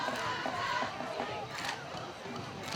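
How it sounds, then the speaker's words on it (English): Cheerleaders and a crowd yell and cheer at a high school football game, a steady wash of voices with louder bursts rising over the din throughout. "Cheerleaders and the crowd are both making some noise here"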